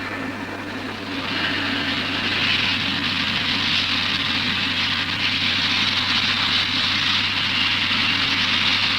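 A stationary steam locomotive stopped partway along the line, giving a steady, continuous low rumble and hiss with a broad airy wash above it, loud and unbroken throughout with no talk.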